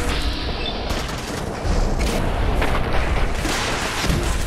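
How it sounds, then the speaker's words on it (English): Heavy gunfire and booming explosions from a rocket launcher in a modded Fallout 4 battle, loud, dense and continuous, with no talk over it. "Someone just rocket launched me."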